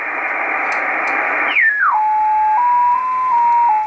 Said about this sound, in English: 14076, these tones are JT65 digital modes